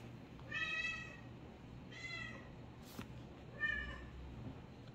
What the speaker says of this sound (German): Unsere Katze freut sich gerade extrem über etwas.